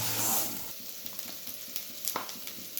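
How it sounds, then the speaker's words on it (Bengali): A ginger-based gravy for vegetarian khichuri fries quietly in a pan, a soft continuous sizzle with faint stirring scrapes and a few light clinks, heard close up. "তার জন্য এই কাঁচা আদার গন্ধটা যাওয়া পর্যন্ত আমাদের এইটাকে ভালো করে ভেজে নিতে হবে।"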